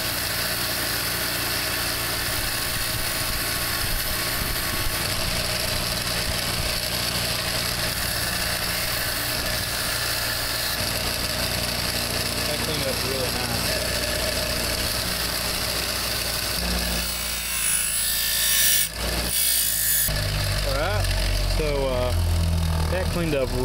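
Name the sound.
bench grinder wire brush cleaning a mini cleaver knife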